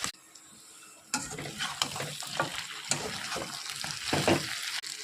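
Meat drops into hot oil alongside whole spices, bay leaf and fried onion, starting a sudden sizzle after a quiet moment, then crackling and hissing steadily with scraping spatula strokes, fairly quiet overall.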